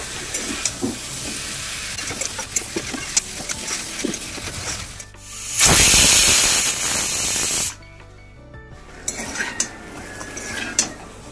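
Vegetables with turmeric stir-fry in a pan, with a soft sizzle and the clatter of a spatula. A loud hissing burst rises for about two seconds midway, then the scraping and stirring continue.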